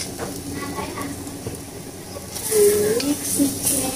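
Singaporean fried noodles hissing in a hot pan while being stirred, with a steady sizzle that swells louder halfway through, and a voice talks over it.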